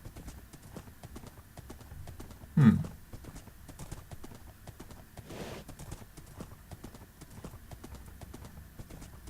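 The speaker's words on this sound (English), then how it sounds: "I like the horse noises, by the way." Steady clip-clop of horse hooves plodding along, with a short loud burst of a horse's whinny partway through, set against a game's background ambience.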